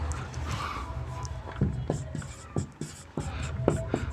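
Chalk tapping and scratching on a classroom board as a teacher writes during a chemistry lesson, a series of short, sharp strokes with faint voice and room noise in the background.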